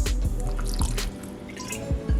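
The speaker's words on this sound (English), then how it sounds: "splash more of red wine" Red wine splashes into a pot roast with celery and carrots in a Dutch oven, a few wet drips and sloshes landing close by.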